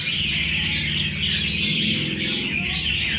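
A wild-caught choè bird, cage number 299, sings at a bird contest in a continuous, dense stream of bright chattering notes, with a low rumble of background activity underneath.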